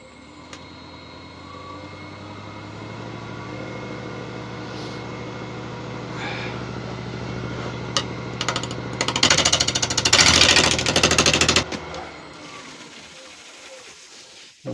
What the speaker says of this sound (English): round this off, flatten it off, and put a tenon on it